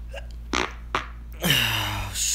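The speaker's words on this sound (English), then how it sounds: "Instead of a sneeze, I farted" A couple of short breathy sounds, then a loud, low, sustained fart lasting about a second, close by.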